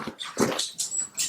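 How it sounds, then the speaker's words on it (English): A dog whimpers in several short, high-pitched whines, close by, with no talking. "Sorry, that's my dog."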